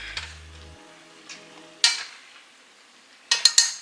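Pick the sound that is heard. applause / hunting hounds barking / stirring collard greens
stirring collard greens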